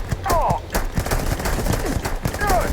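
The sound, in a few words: Rattler gun firing in Starfield video game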